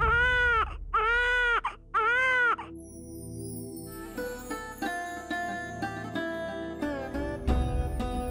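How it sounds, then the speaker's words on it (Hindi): An infant cries in three loud, rhythmic wails close by. Swelling music then takes over, and the crying gives way to it. "बच्चे के रोने की आवाज कहां से आ रही है?"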